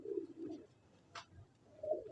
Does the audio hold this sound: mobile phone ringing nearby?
no